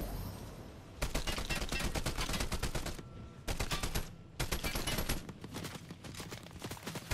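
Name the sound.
gunshots in Fortnite video game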